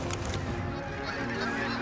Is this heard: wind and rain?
no